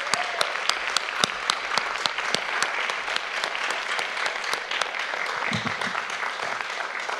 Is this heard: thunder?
no